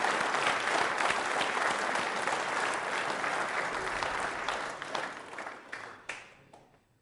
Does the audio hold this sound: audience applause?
yes